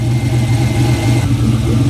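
A 1969 Pontiac GTO idles steadily while warming up, giving a loud, close, continuous low engine rumble with no voices.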